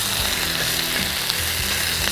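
Bison stir fry sizzles loudly in a very hot wok, a dense unbroken hiss and crackle close by, with faint scraping of stirring underneath.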